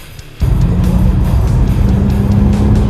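Steady, loud engine and road roar of a Porsche Carrera 4S on the move, a low hum with a constant tonal drone, starting abruptly after a brief quieter moment and holding evenly throughout.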